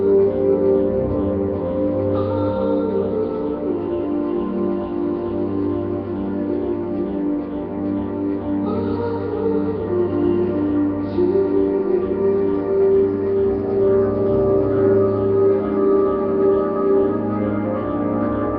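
A song plays steadily and continuously at moderate volume, with a dense, sustained instrumental sound and no talking over it.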